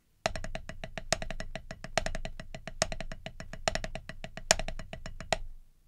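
Snare drum drags played as a spread-out triplet rudiment, steady rhythmic strokes with grace-note pairs and periodic louder accents, close and clear with no talking.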